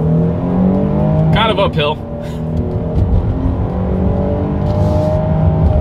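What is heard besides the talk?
Jeep Grand Cherokee L V6 accelerating in sport mode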